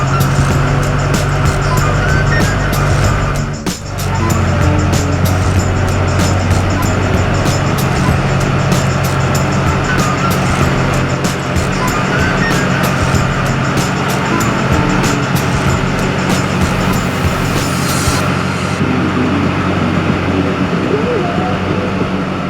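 An LB7 Duramax pickup truck drives outdoors, its engine a loud, steady, close roar with road and tire noise, briefly dipping early on before continuing evenly.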